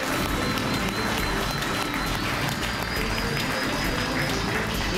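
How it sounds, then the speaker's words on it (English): Broad, continuous noisy wash of an audience applauding at a motorcycle award reveal, loud and steady throughout with no clear individual claps standing out. "Come on, round of applause, please."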